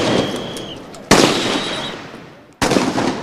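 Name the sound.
repeated gunfire at a street protest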